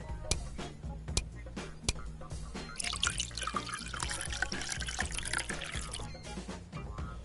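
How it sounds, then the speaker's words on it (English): Vodka and peach schnapps poured into an ice-filled long glass in a bartending VR game, sharp ticks of bottle and glass clinks, then a denser trickling pour mid-clip, alone without speech. "Pour in 40 milliliters of vodka and 20 milliliters of peach schnapps"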